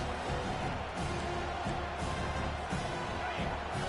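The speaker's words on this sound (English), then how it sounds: "This crowd, full throat, splitting the eardrums and letting them know it's going to be a long day." A packed stadium crowd in the College Football 25 video game roars continuously and loudly, a dense wash of cheering with no break.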